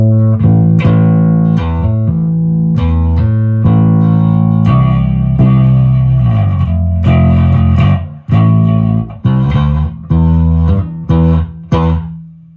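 Peavey T40 bass on its bridge pickup, run through effects, plays a sustained, punchy riff with heavy low notes, distortion and modulation, loud and continuous, then ends in a run of separate clipped hits with short gaps.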